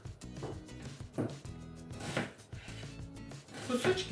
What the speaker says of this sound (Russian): Теперь нарезаем лук.